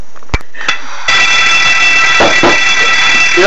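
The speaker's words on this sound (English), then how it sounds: "your alarm's going off, dude" A fire alarm in a university residence hall sounds after two short beeps, then blares as a loud, steady electronic tone that continues without a break to the end.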